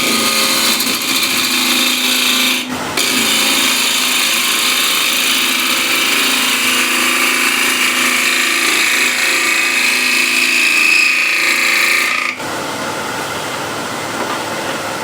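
A wood lathe roughs a turning blank with a spindle gouge, giving a loud, steady whirring, scraping drone that runs almost without a break and cuts off briefly twice.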